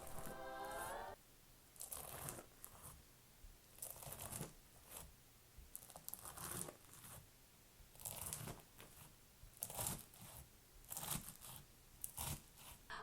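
Repeated crunchy slicing sounds as slime is cut, a crisp crackle every second or so, close and fairly quiet, with no talking.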